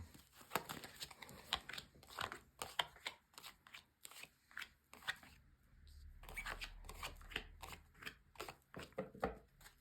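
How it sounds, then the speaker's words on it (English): Soft, repeated papery slaps and rustles as tarot cards are set down on a table one after another, quiet and close, with brief pauses between. "I'm just going to lay down your 10 cards on the table."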